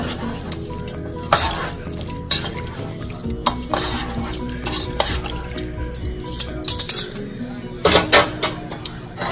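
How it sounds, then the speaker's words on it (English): Green beans with bacon being stirred in a pot, with scraping spoon strokes, clinks against the metal and a soft sizzle in between, close and fairly loud, with no talk. "Give it one last stir."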